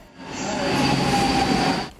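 A Milan metro train running underground, its steady rumbling roar and rail noise filling the space at close range with a faint high wheel squeal, no voices.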